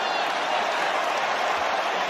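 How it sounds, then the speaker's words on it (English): A rugby crowd in a stadium applauds a try-saving tackle, a dense, steady wash of clapping and crowd noise filling the whole moment, with a commentator's voice over it. "And the crowd are applauding."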